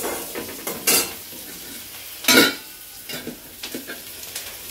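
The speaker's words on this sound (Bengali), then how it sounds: "এখানে হচ্ছে মাছের তেল ভাজি করছে আর কি" Hilsa fish fat fries in a pan with a soft sizzle while a utensil stirs and scrapes, making two loud bursts and several smaller clatters, close by and with no speech.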